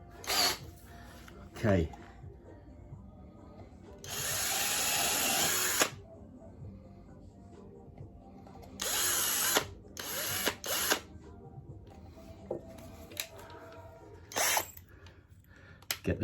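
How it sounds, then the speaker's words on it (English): A power drill enlarges a hole in an RC plane wheel spat, whirring in several short bursts of a second or two, with a longer run early on and quiet handling noises between; a voice speaks briefly. "enlarge the hole by just sinking the drill bit in, and then take your drill bit out."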